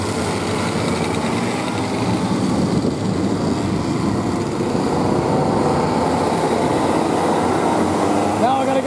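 KA3 racing karts lapping a kart track, their high-pitched two-stroke engines buzzing continuously at a distance and rising slightly as they pass, while a commentator talks over them.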